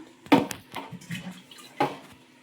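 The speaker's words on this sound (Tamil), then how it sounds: "இப்போ நம்ம தேவையான அளவு தண்ணி ஊற்றிக்கலாம்" Water poured from a vessel into ground lentils for bottle gourd sambar, a few short splashing bursts and gurgles close by in a quiet kitchen.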